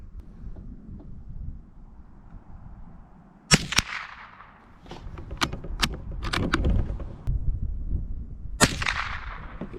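A Ruger American .22lr rifle fires at a target 50 yards away: a string of sharp, close cracks, irregularly spaced with short pauses, against light outdoor wind and background noise.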